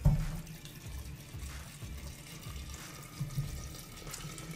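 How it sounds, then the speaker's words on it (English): Filtered tap water runs into a jar of garbanzo beans set to soak, a low, steady trickling rush that continues quietly throughout with no talking. "So I'm going to fill this up with water."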